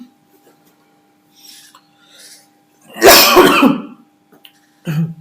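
A lecturer coughs and clears his throat in a short harsh burst, with faint breaths before it and a brief throat sound after, in an otherwise quiet room.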